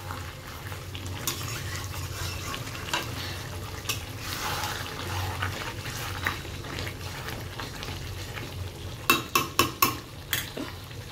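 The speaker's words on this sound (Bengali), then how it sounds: "মাংসটা কষছে।" Meat is sautéed and stirred in a home kitchen pan, with a soft continuous sizzle and scraping, then a quick run of sharp utensil knocks against the pan near the end.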